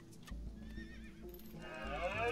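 A horse in the Sheltered video game gives a clear whinny that rises into a louder, drawn-out neigh toward the end, with soft hoof-like thuds and game ambience underneath.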